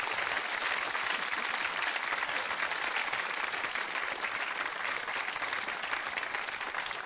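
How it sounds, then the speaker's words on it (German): A television game show studio audience applauds steadily, a thick, even wash of many hands clapping at constant loudness from start to finish, with no talking over it. "Danke für den Applaus."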